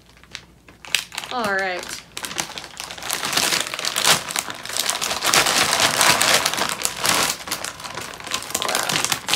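A hefty plastic bag of Hershey's Halloween Shapes chocolates is torn open, giving loud, sustained crinkling and rustling close by after a short spoken remark.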